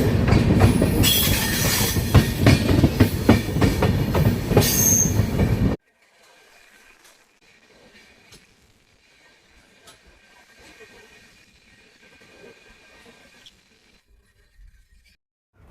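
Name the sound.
Okha Rameshwaram Express train departing Dwarka station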